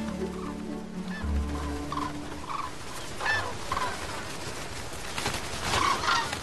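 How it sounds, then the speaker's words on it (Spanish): Flocks of wintering birds at a coastal wetland near Shanghai give repeated honking, gobbling calls, some near and loud and others farther off, scattered irregularly over a steady outdoor background. "al final del otoño se convierte en un animado paradero cuando miles de aves llegan a pasar el invierno"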